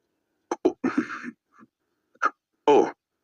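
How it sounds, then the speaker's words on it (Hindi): A man gives a few light coughs and throat-clears in short bursts, up close and fairly loud, with brief pauses between them and no talking. "वो हल्के से खांसने लगा"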